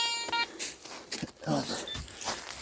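A metal detector gives a brief, clear electronic beep tone near trenches in a field, followed by quieter rustling and faint speech.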